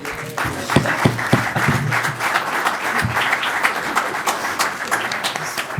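A room of people applauds students after a youth mock board meeting, dense sustained clapping that stays loud and even throughout, close and without talk over it.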